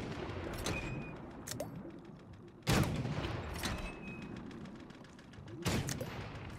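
Cannon blasts in the video game Golf With Your Friends, three sharp booming shots spaced a few seconds apart, each a sudden loud burst over a quieter ongoing game background.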